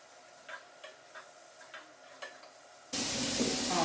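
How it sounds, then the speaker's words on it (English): Grass-fed ground beef being stirred in a frying pan: several soft, evenly spaced scrapes over a faint sizzle, then a sudden loud, steady hiss of frying for the last second, no voices. "Stir up the hamburger a bit."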